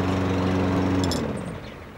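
A lawn mower engine drones steadily at close range, then begins winding down and fading as it is shut off.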